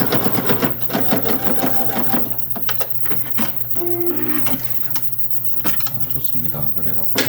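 A sewing machine stitches decorative patterns on a quilted pouch, its needle chattering in fast rhythmic bursts with short pauses and shifts in pace, close and clear, while a voice talks over it.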